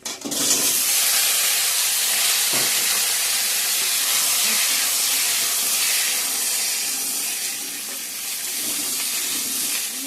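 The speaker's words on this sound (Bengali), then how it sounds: "ফোড়নটা হয়ে গেছে, এখন আমি সবজিগুলো দিয়ে দেব।" Chopped vegetables hitting hot oil tempered with garlic, onion, dried red chilli, bay leaf and panch phoron in a home kitchen, giving a loud, steady sizzle with a sharp hiss at the start that continues throughout without talk.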